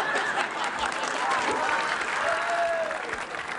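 An audience at an Ethiopian comedy show breaks into sustained applause: dense, even clapping from a large crowd with a few chuckles mixed in, lasting several seconds.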